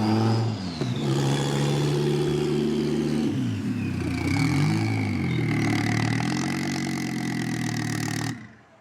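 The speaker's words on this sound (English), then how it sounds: "So the 90 Quattro is a pretty nice tow car" An Audi 90 Quattro engine rises and falls while towing, with loud, close revving and shifting gear pitches through several accelerations before cutting out abruptly near the end, with no talk over it.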